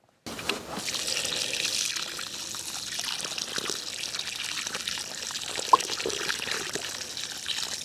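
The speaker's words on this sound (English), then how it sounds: "What I'm going to do now is I'm going to start watering it in." Water is poured from above onto a freshly planted bare root plant to settle the soil, a steady close splashing trickle that runs continuously after a sudden start.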